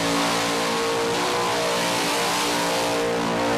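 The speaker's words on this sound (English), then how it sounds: "This is a huge skid, though, from Mr. Bad Q himself, Ross Heasley." Loud, continuous engine roar with strong harmonics from a car doing a huge skid at Summernats, driven by Ross Heasley, holding steady at high revs throughout with no voices.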